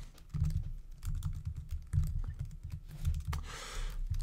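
Typing on a computer keyboard while writing a C++ program, a steady run of quick, light key clicks with irregular rhythm and a brief busier burst near the end, close and fairly quiet, with no talk.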